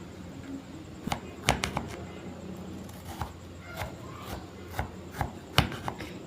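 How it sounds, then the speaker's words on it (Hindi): A knife cuts frozen ginger garlic paste into cubes on a board, a dozen or so irregular sharp thuds and clicks spaced unevenly, close up, with faint background hum and no talking. "अब हम इसे क्यूब्स की शक्ल में काट लेते हैं।"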